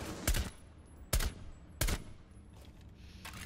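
Three sharp gunshots from Rainbow Six Siege gameplay ring out at roughly even gaps, loud and close, a headshot landing during an indoor firefight, with quieter follow-up noise trailing after.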